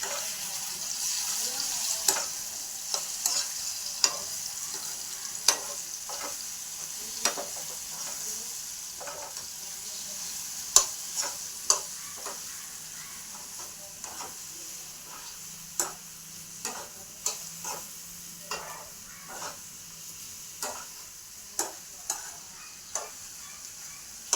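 Food is stirred in a cooking pot after the lid is lifted: repeated sharp scrapes and knocks of a spoon against the pan come at an uneven rhythm over a quiet, constant sizzling hiss.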